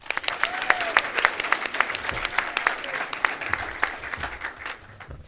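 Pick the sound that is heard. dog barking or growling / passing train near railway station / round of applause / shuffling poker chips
round of applause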